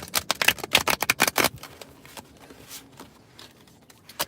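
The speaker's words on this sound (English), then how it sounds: "Sometimes these shuffling cards sound like farts." Tarot cards are shuffled by hand in a quick run of crisp, close riffling bursts, then softer scattered flicks trail off.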